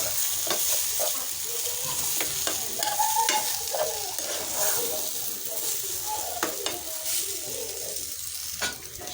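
Spices including chaat masala and garam masala stirred and mixed in a frying pan for a paratha filling, with steady scraping strokes and a soft sizzle running throughout, close and moderately loud.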